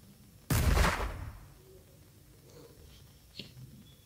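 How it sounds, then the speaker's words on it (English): A burst of rocket thrust erupts as a space shuttle takes off in the game Diggy's Adventure. It comes as one loud roar that fades over about a second, followed by a few faint small effects. "So since we are ready, let's do the takeoff."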